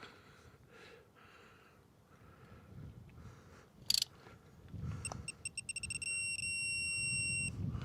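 A digital torque wrench's steady electronic beeping starts after some faint clicks and low mechanical noise, holding a constant high tone with quick pulsing bursts near the end.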